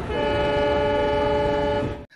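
A passenger train sounds a loud, steady horn close by, its tone sustained for about two seconds before cutting off abruptly.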